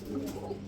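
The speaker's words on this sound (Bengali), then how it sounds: "এক জোড়া বিউটি উমা কবুতর দেখাবো বন্ধুরা" Beauty homer pigeons coo in a low, steady throb that runs through the whole short moment, close and soft with no talking.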